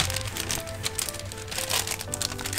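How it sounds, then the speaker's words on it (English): A small plastic bag crinkles and rustles close by, a continuous soft crackling with quick irregular crisp bursts, fairly quiet throughout. "slip it into a little plastic bag"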